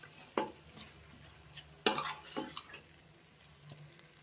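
A spoon scrapes and clatters against a pan in a few short strokes over a faint sizzle as broad bean and tomato curry is stirred, close by and fairly quiet.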